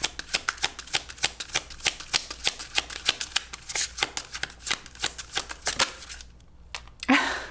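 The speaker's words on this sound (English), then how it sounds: "You saw me. I shuffled." Tarot cards being shuffled by hand, a long run of quick, crisp riffling snaps repeated in a steady rhythm, close and loud, ending with a short pause and a brief rustle.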